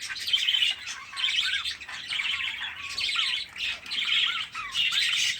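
Rainbow budgerigar parakeet with a crossbeak, squawking and chirping close by in a steady run of sharp, scratchy calls with short whistled chirps, and no talking.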